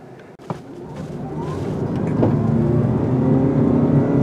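A 2022 Lexus UX250h hybrid accelerating in sport mode, a modest engine drone that swells and then holds at a steady level, with a soft thump near the start.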